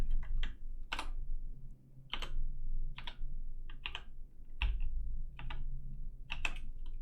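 Computer keyboard keys pressed one at a time for shortcuts in a code editor, roughly a dozen crisp, close clicks spaced unevenly over several seconds, with no one talking.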